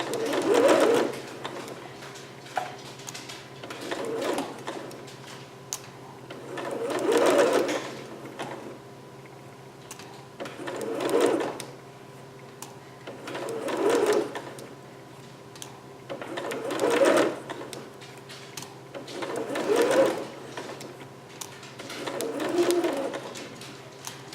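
Sewing machine stitching a seam on a Vogue 8280 garment piece, then back stitching, in about eight separate bursts of fast whirring with short pauses between them, close and clear against a faint background hum.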